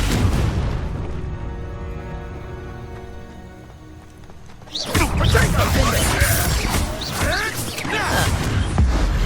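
A Confringo fire spell bursts in Hogwarts Legacy with a sudden loud blast and a spray of crackling debris, cutting across a softer tonal hum and staying dense and noisy afterward.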